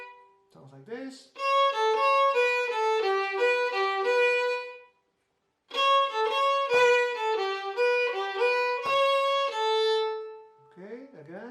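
An Asturian bagpipe sounds a sustained melodic phrase over a held drone, stops for a short gap, then plays a second phrase, loud and close, with a few brief squeaks at the edges.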